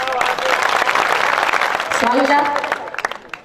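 An audience claps in a dense, steady wash at a 2015 all-India Hindi poetry gathering, a kavi sammelan; the applause fades as a voice begins speaking.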